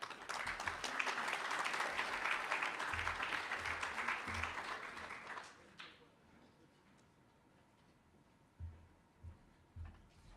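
Conference audience applause for keynote speakers: a sustained, even wash of clapping for about five seconds that cuts off abruptly, leaving a quiet room with a few soft thumps.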